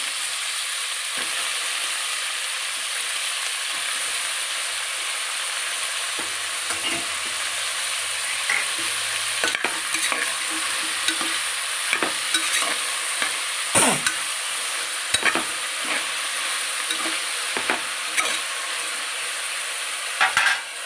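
Brinjal sautéing in a pan for sambar, a steady loud sizzle running throughout with scattered soft clicks and scrapes of stirring.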